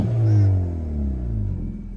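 A Hyundai i30N hot hatch engine rev, a loud nearby throaty rumble that swells and then drops off with a slight burble, short and with no voices.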